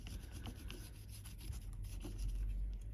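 Soft, steady rubbing and scraping while the mounting holes of a Blu-ray drive are cleaned, a close, quiet, continuous friction sound with faint irregular strokes and no talking.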